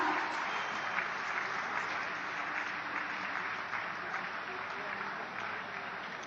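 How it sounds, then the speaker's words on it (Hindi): A crowd applauds steadily at a ceremony flagging off the Kashi Tamil Sangamam Express train, a continuous even wash of many hands clapping at moderate distance. "जोरदार तालियों की शुभकामनाओं के साथ आज आप इस शुभ कार्य के साथ हों।"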